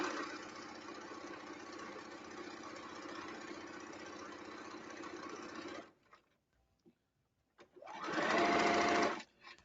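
Sewing machine running steadily while gathering netting, a dense continuous whir for about six seconds, then a brief pause with faint handling and a louder burst of stitching at the end.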